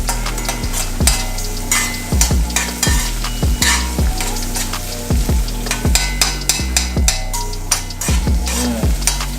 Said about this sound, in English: when onion and scallions, you know, start fry up